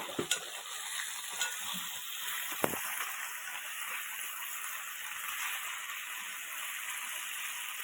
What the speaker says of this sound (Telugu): మగ్గాక బంగాళదుంపలు వేసుకోవాలి ఒకసారి కలిపేసుకోండి